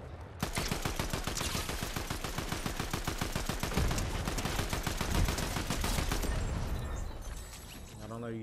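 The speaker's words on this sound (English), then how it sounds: "They're shooting." Rapid automatic gunfire in a Fortnite match, dense bursts of shots hammering steadily for several seconds before tapering off, loud and close with game sounds around it.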